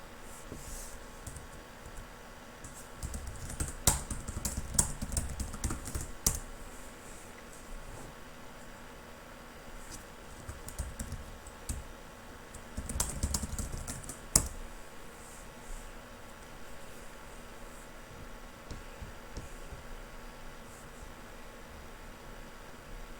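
Someone types on a computer keyboard in fairly quiet bursts of rapid clicking keystrokes separated by pauses, with a faint background hiss.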